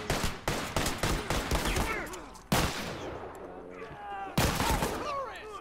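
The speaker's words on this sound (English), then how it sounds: "Rifle shot on him" Rifle gunfire in The Last of Us multiplayer, a rapid burst of loud sharp shots followed by two more isolated cracks, with players' voices chattering over the fighting.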